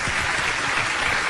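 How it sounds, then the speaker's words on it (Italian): A studio audience on an Italian radio show bursts into steady, dense applause that fills the whole short stretch. "però gli facciamo un applauso"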